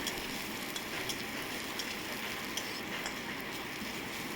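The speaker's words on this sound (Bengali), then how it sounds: "এখানে পেঁয়াজটা ভাজছি" Onions fry in a pan in a faint, even sizzle with soft scattered ticks and crackles, no voices present.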